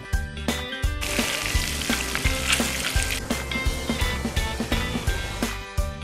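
Sesame seeds fry in about 100 grams of butter in a pan, a loud, constant close-up sizzle broken by repeated scraping knocks as they are stirred, with no talking.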